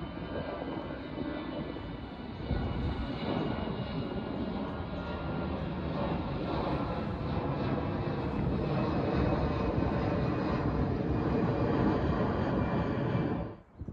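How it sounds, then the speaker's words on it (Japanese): Airplanes taking off at Haneda Airport, a loud steady jet engine roar that holds and builds slightly for many seconds, heard from outdoors without talk before it cuts off at the end. "羽田空港ならではの2機同時の離陸も見ることができます。"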